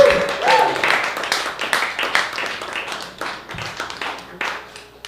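An audience at a live stand-up comedy open mic night claps to welcome the host, a burst of scattered applause that thins out gradually, with voices talking over it.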